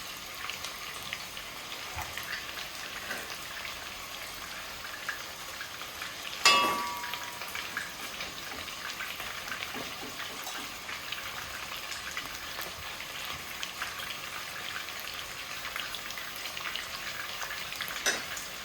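Chicken frying in a pan with garlic and ginger paste, a constant crackling sizzle close by, with one brief clatter partway through and no voices.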